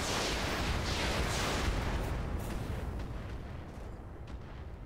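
Heavy weapon fire booms in a RogueTech BattleTech battle, a loud rumbling blast that rolls on and slowly fades over several seconds, with no voices.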